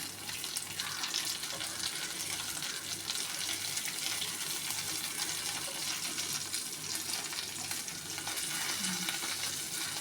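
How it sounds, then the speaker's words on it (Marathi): Semolina-coated mackerel fry in a pan with a dense, steady sizzle and crackle, close and loud, continuing without pause and with no one speaking. "व्यवस्थित असा रवा लावून सगळ्या बाजूने चांगले तळून घेऊया आपण मासे।"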